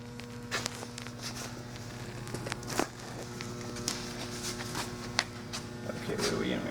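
A Hardinge HLV-H-EM precision lathe running, a faint steady mechanical hum with tonal whine beneath scattered handling clicks and footsteps in a workshop.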